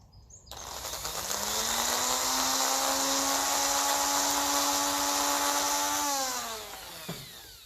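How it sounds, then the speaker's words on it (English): Wire brush on a grinding head cleaning rust from a coil on a Ferguson 20 or 35 tractor, a high whining spin-up into a steady abrasive scream held for several seconds, then winding down. "Brush for the grinding head."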